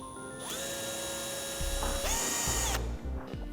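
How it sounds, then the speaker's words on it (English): A power drill with a 5/32 bit marks holes in a trailer, whining as it spins up in a couple of steady bursts with rising pitch and short ratcheting clicks as it bites, close and alone. "using a 5/32 drill bit, I'm going to mark my holes"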